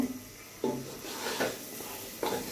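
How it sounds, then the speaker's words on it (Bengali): Rice frying in ghee with a soft sizzle, broken by a few scraping stirs of a spoon against the pan. "ঘিটা দিয়ে চালটা ভাজা করব।"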